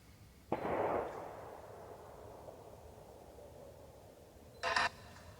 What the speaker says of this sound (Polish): Przed chwilą rozległ się strzał.